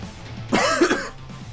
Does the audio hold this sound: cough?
yes